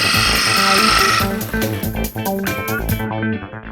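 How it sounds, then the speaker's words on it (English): An espresso grinder runs with a dense, loud whirr while its burrs are adjusted toward touching, the tone shifting and thinning out toward the end as the setting changes. "Turn the grinder on."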